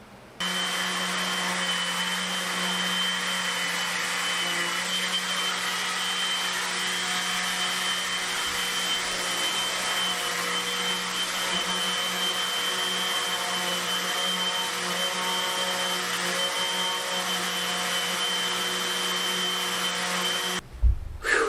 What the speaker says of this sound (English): I sanded down the whole ceiling